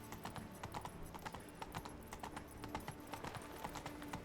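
Roach the horse runs in The Witcher 3, hooves clip-clopping in a quick, even rhythm throughout, fairly faint and alone without talk.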